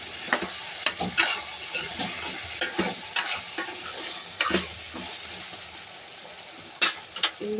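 Moringa chicken curry being stirred in a pan, repeated sharp scraping and tapping strokes over a continuous bubbling sizzle, close up with no talking.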